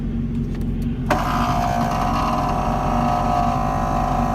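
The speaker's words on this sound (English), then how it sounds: "That noise that you're hearing is the compressor, and that compressor kicks on." Inside a Radical SR3 RSX race car with master power on, a compressor kicks on partway through, adding a steady whirring hum over an ongoing low drone.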